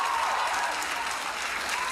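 A crowd applauds steadily for two seconds. The clapping is dense and evenly loud, with no voices standing out.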